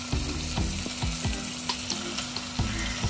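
Chicken sautéing in a pan with chicken masala, garam masala and turmeric, a loud close sizzle with quick rhythmic scrapes and clinks of a spoon stirring against the pan.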